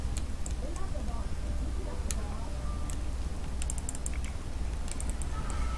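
A Sim types on a computer keyboard in The Sims 4, with quick irregular clicking keystrokes in bursts at moderate level over a steady background bed of game ambience and music.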